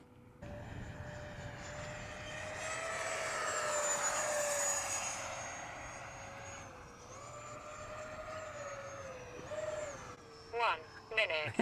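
HK Flycat RC airplane flying overhead, its electric motor a steady whine that rises and falls through passes and a loop, fairly loud and continuous, with brief bursts of nearby handling noise near the end.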